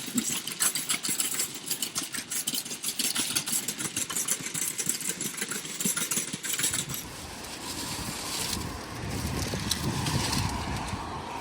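A car's engine hums steadily from inside the cabin while driving home, a low rumble with light rattles and knocks that deepens and smooths out partway through, with no voices.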